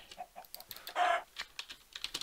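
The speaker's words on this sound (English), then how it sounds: "Killing chickens as I go." Chickens clucking in Minecraft during a UHC match, several short bird calls mixed with rapid computer keyboard clicking, with one longer, louder burst in the middle.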